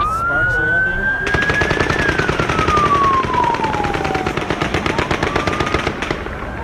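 Rapid, continuous automatic gunfire in Las Vegas, loud and dense, rattling from about a second in to the end while a siren wails and sweeps in pitch throughout.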